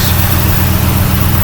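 A diesel vehicle engine idles steadily with a low, even rumble, close and continuous with no revving or other sounds.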